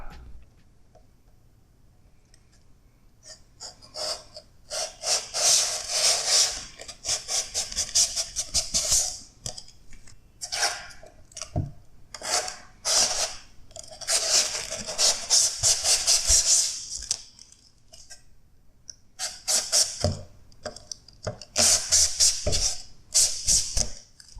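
Protective plastic film peeled off the sides of a Funko box protector, with repeated crackling, hissy tearing bursts in uneven stretches separated by brief pauses, close and fairly loud.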